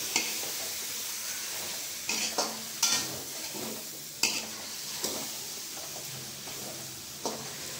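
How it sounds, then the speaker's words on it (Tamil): Brinjal and drumstick pieces sauté in hot oil for sambar: a steady sizzle runs throughout while a spoon stirs and scrapes the pan with several sharp clinks spaced a second or so apart, close and moderately loud, with no talking. "சேர்த்துட்டு நல்லா வதக்கி விட்டுக்கலாம்."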